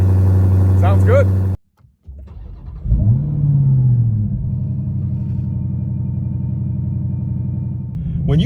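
A supercharged Dodge Demon 170 V8 idles loudly, cuts out briefly, then fires up with a rising whine and settles into a steady, close, rumbling idle with a supercharger whine on top, and the revs climb again at the end.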